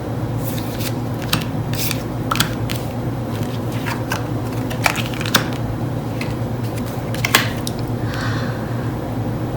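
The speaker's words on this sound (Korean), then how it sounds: "카드를 뽑아보도록 하겠습니다" Tarot cards shuffled and drawn by hand, a steady papery rustle broken by sharp irregular card snaps, close and continuous.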